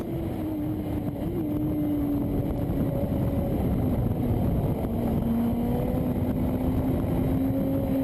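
Sidecar racing motorcycles at the FIM Sidecar World Championship in Rijeka, 2012, engines droning steadily with a continuous high whine and shifting pitch, loud and sustained throughout.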